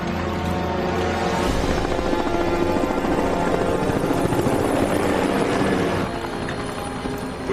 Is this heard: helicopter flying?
yes